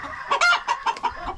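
Chickens, including sultan hens, a brahma and a rooster, cluck in quick, loud bursts close by in a farm pen, a short run of rhythmic calls with no one talking.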